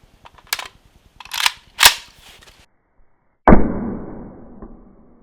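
A rifle firing 5.45 ammunition into a gel block gives a single loud, sharp shot that rings out and decays, after a few mechanical clicks and clatters of handling.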